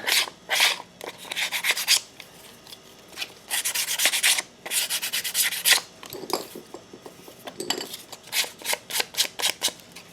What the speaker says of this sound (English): Now the sandpaper is going to be a bit more aggressive than the Mr. Clean.